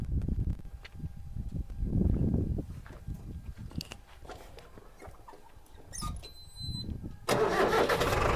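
Clunks and mechanical rattling, then an Arjun 605 tractor engine with 689 running hours cranks and catches, bursting into a loud steady roar near the end.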